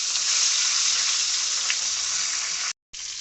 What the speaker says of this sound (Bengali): মাথাটা ভাজা হয়ে গেছে মাথাটা একটু বেশি ভালো করে ভাজতে